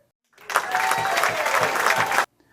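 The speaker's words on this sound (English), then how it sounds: "Round of applause for that." Applause sound effect dropped into a casual talk-show episode, a short burst of dense clapping that starts abruptly, holds steady, and cuts off cleanly.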